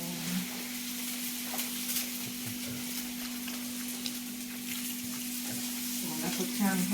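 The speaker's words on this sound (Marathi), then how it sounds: "आता आईने तव्यात टाकले धपाटं ती आणि त्याला तेल ही टाकलंय" Dhapate flatbread frying in oil on a griddle over a wood-fired stove, a steady close sizzle running throughout, with faint scraping and background voices near the end.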